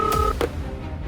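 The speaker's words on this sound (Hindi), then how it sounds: "इतने दिनों बाद लैंडलाइन पर कॉल।" A landline telephone line sounds a couple of short tone beeps in quick succession over a low background hum, lasting about a second.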